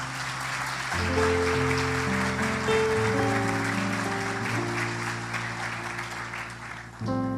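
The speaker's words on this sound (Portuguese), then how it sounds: "Uma salva de palmas." Applause fills a church after a baptism, a steady wash of clapping from a congregation lasting several seconds while sustained organ or keyboard chords play underneath.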